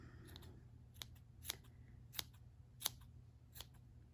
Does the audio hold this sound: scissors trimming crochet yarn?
yes